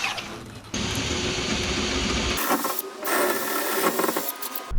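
A power drill with a 13mm bit grinds continuously through metal, its harsh whirring noise shifting in pitch and texture as it bites through. Loud and close, with no talking.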